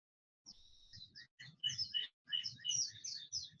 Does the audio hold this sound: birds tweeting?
yes